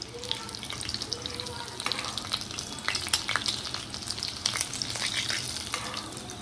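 Homemade fish fingers fry in hot oil with a steady, close sizzle and bursts of crackling spatter, pops clustering irregularly throughout against a constant hiss.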